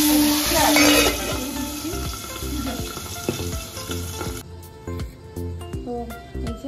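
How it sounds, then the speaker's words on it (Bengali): Pabda fish hits hot oil in a kadai and sizzles loudly, with sharp crackle and spatter that ease off after a few seconds, leaving softer frying and the occasional clink of a utensil. "এই যে মাছটা এবার আমি কড়াইতে দেবো"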